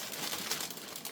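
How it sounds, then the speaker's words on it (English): Close, steady crinkling of a plastic bag, a dense rustle lasting about a second with no talking. "Pardon the noise of the plastic bag."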